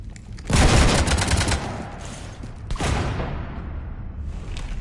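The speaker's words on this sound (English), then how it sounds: "You want to stop shooting up my ship?" Gunfire rakes a starship in Mass Effect 3, a loud burst of rapid shots and metallic impacts, then a second volley after a brief lull, trailing off into rumbling echoes.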